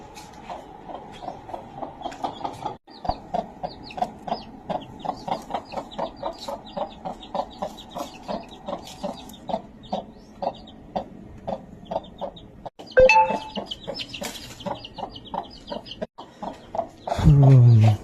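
Chickens cluck steadily in a rapid, rhythmic series, close and fairly loud, with a brief louder squawk near the end.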